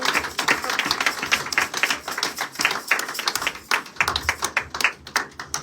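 A church congregation applauding during a Sunday service, with dense rapid hand claps in an uneven, sustained burst that briefly thins then swells again, close and fairly loud.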